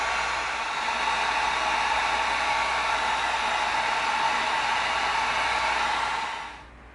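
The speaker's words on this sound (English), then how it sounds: "Now we're going to heat seal it, tighten it up." A heat gun blows hot air over EVA foam to heat-seal it, a steady close airy roar that holds constant for several seconds before winding down and fading at the end.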